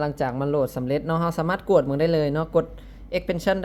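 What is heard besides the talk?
None of the usual background noises is heard.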